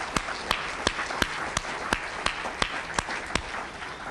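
Clapping at a company conference, with a handful of sharp, evenly spaced claps standing out over a softer, steady bed of applause, fairly quiet and moderately close.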